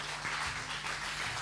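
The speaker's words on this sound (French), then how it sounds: "On l'applaudit très fort, s'il vous plaît." Audience at a student journalist festival on a Congolese TV programme applauding, a brief continuous wash of clapping with a low steady hum beneath it.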